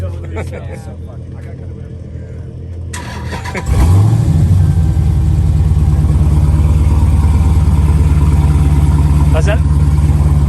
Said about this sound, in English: Start it up, man. Oh hell yeah! I gotta hear it. Gotta hear the noise.